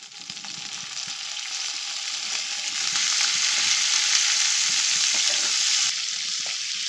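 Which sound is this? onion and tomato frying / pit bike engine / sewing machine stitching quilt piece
onion and tomato frying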